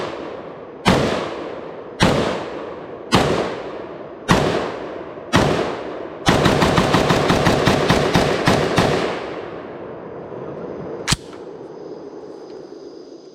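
An IWI Galil Ace 7.62x39 carbine with a flash hider fires outdoors: five loud, evenly spaced single shots, then a rapid burst of about a dozen rounds, with one last shot after a pause.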